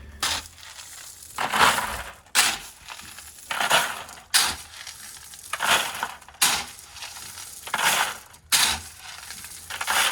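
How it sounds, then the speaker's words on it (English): Pre-sorted gravel is tipped out of buckets onto clay yard dirt in the Phoenix, Arizona area, a series of close, crunching, rattling pours, each burst lasting a second or so and repeating about every two seconds. "So I've dumped 4 buckets of pre-sorted gravel here."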